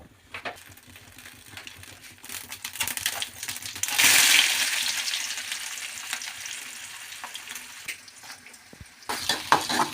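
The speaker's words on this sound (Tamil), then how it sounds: "ஃபஸ்ட்டு பீன்ஸை தாளிச்சுக்கணும்." Beans are tempered in hot oil with mustard seeds: spoon scrapes and clinks against the pan, then a loud burst of sizzling that slowly fades, followed by more stirring near the end.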